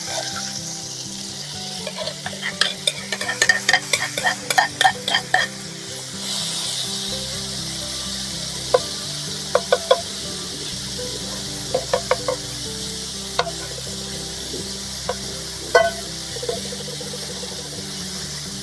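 Tomatoes, peppers and carrots frying in oil in a pan, a steady sizzle with bursts of stirring scrapes early on and scattered clicks of a utensil later, close and fairly loud, without talking.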